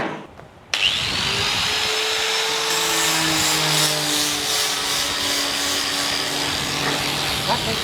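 A power sander works a piece of school furniture made from recycled plastic bottle caps, giving a loud, steady whirring rasp after a short quiet start and continuing unbroken to the end.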